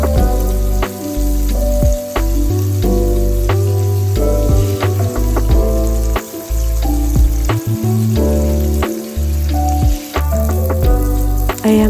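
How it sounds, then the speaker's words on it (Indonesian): Chicken satay grilling on a Teflon pan gives a steady, loud sizzle and frying crackle throughout, with the meat pressed down and turned over now and then, and no voices. "Pas dipanggang agak ditekan-tekan ayamnya ya teman-teman, agar matangnya meresap"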